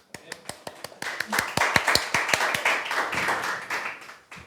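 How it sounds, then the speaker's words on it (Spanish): A church congregation gives applause during a Spanish-language sermon. It opens with a few isolated sharp claps that build into a denser round of clapping, close and moderately loud, then tapers off, with some voices faintly mixed in. "¿Cuánto le dan un aplauso a Dios por eso?"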